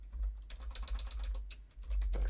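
Fingers type on a computer keyboard in a quick, irregular burst of close, crisp key clicks, with no talk over them.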